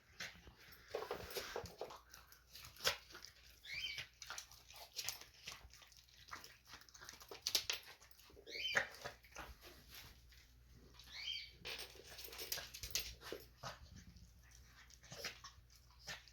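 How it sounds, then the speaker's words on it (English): Two dogs eat homemade chicken jerky treats up close, with scattered wet chewing, smacking and crunching sounds and a few brief whimpers, faint and irregular throughout. "My dog Jack on the right always eats fast."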